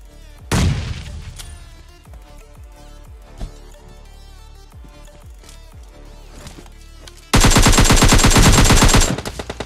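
Gunfire in the mobile game PUBG Mobile Lite: a loud opening shot, scattered single pops and distant cracks, then a dense, loud automatic spray of rapid shots lasting about two seconds near the end.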